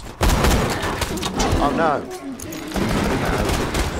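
Rapid gunfire rattles in bursts while shooting bullymongs in Borderlands 2, loud and close, with a voice shouting over the shots.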